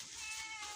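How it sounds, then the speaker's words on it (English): A house cat meows on a farm where pigs are raised, one short drawn-out mew heard close and fairly faint over a steady background hiss. "And these are our cats"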